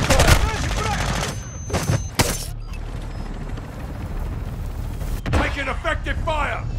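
Heavy bursts of automatic gunfire and sharp cracks in the online shooter Call of Duty Warzone 2.0 DMZ on Ashika Island, loud at first, then dropping to a rumbling background with occasional shots, mixed with radio-style voices.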